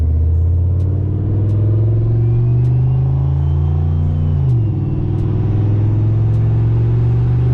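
A completely stock single-turbo 5.4 liter Ford F-150 four-wheel-drive pickup running through its transfer case, with a loud, steady low engine drone climbing in pitch, a brief dip like a gear shift midway, then pulling on again.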